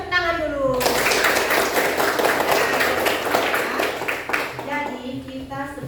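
Schoolchildren clap together in an Indonesian classroom for several seconds, a dense burst of rapid hand claps. A teacher's voice is heard before and after the clapping.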